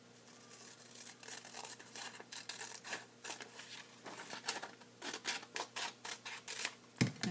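Scissors cutting through a folded origami paper square for a pagoda model, a series of close, crisp snips and paper rustles in uneven bursts, growing busier toward the end with a sharp clack at the finish.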